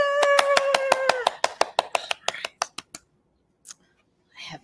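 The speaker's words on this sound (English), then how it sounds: "give yourself a big round of applause" Children at a library storytime clap a round of applause in a quick regular rhythm that thins out and stops, with a voice audible over the first claps and a few brief sounds after a pause.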